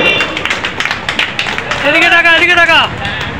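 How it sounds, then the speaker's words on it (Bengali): Audience clapping at a blood donation camp gathering in Bardhaman, a rapid patter of many hands under crowd murmur, swelling louder toward the end while a voice speaks over it. "একটু জোরে করতালি হবে।"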